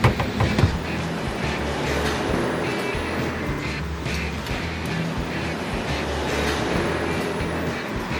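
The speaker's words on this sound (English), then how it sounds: "And there's your train." A train rolls past near a garage where a clutch is being removed from a Triumph car, a steady dense rumble with faint clatter lasting throughout, no voices over it.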